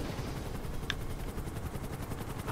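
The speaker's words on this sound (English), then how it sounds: "I've never played in this helicopter before." A helicopter in the video game GTA 5 gives a steady, loud rotor drone throughout. One brief sharp sound pops out partway through.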